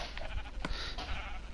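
A sheep in the Minecraft video game bleats with a short wavering cry, loud and close over a steady background hum, with no talking.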